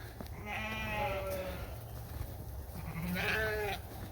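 Ewe lambs bleating inside a barn, two long wavering calls from a nearby lamb with a pause between them, over a low steady background hum.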